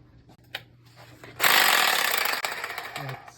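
Reciprocating saw cutting in a workshop during a Sea-Doo 951 DI jet ski repair, a loud buzzing burst that starts abruptly after a few faint knocks and runs for about two seconds before tapering, heard up close.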